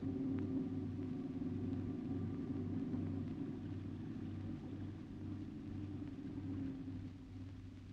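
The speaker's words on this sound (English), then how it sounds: "We're taking Supercar to the edge of the rocks." The Supercar vehicle's engine gives a low, steady droning rumble with a faint hum above it, constant and close throughout before easing slightly at the end, with no voices.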